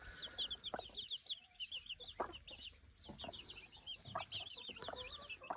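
Tindet coral hens clucking softly with high chirping of their growing chicks throughout, a steady busy farmyard chatter close by.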